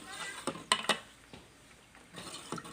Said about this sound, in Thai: เอาก็มาตักใส่ถ้วยใส่จานครับ